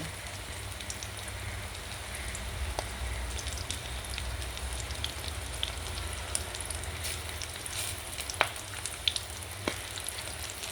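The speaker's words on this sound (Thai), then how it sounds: "ทอดประมาณสามนาทีก็สุกค่ะ" Egg-battered food deep-fries in hot oil, giving a steady close crackling sizzle with occasional sharper pops, and no talking.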